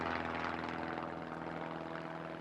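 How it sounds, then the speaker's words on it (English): A search plane flies overhead in a river wilderness, its engine making a steady, loud droning roar that holds constant throughout with no other sounds. "A plane reaches the right area within 10 minutes."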